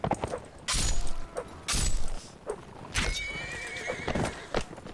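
Horse from Mount&Blade Warband whinnying in loud repeated bursts, several neighs spaced over a few seconds, with clip-clop hooves and other in-game noise between them.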